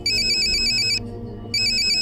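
A telephone ringtone rings out loud and close in two bursts of bright electronic trilling, with a short silent gap between them over a low room hum.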